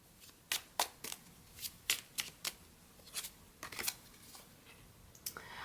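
Tarot cards being shuffled by hand, a series of crisp papery riffles and snaps that come in irregular bursts, close up and fairly quiet with no talking.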